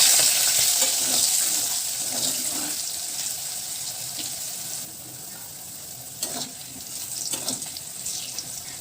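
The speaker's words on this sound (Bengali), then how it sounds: "আলু কাঁচা লঙ্কাটা একটুখানি ভেজে নেব" Diced potatoes and slit green chillies with salt and turmeric fry in hot oil, giving a steady, close hiss of sizzling that eases slightly partway through, with a few soft clinks and no talking.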